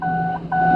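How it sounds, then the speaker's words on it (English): A car's door-open warning chime sounds inside the vehicle, a steady two-tone electronic ding repeating twice, loud and close with no talking over it. "Do you hear my ding?"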